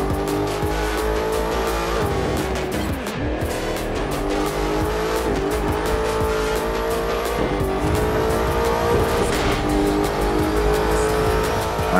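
Maserati race car in The Crew 2 racing game: a loud, sustained engine roar shifting pitch as it revs and accelerates, with tire squeal and skidding layered over a steady driving rumble.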